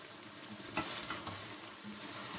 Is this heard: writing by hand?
no